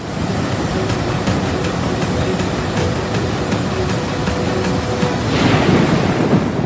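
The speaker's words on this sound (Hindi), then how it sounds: "दिल्ली से सटे हरियाणा में यमुना नदी में बाढ़ आ गई" Floodwater of the swollen Yamuna river in Haryana, near Delhi, rushes in a continuous loud roar with wind buffeting the microphone, swelling briefly louder toward the end, and no speech.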